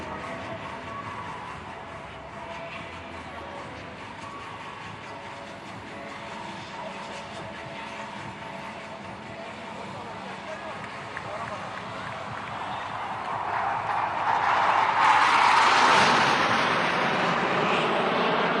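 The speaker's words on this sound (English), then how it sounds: "Hawk Mark 132 Advanced Jet Trainer" A Hawk Mark 132 advanced jet trainer passes at an air display, its jet roar starting distant and steady, then swelling loud as it sweeps close overhead before easing slightly.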